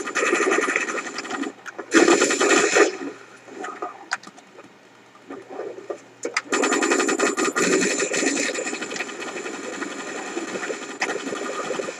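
Automatic weapon fire in the Starship Troopers video game comes as long, rapid, rattling bursts, loud and close, with a quieter gap in the middle before firing resumes steadily.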